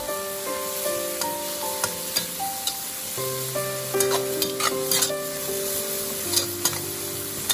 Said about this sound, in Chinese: 再快速的翻炒，将翘头炒香，炒出香味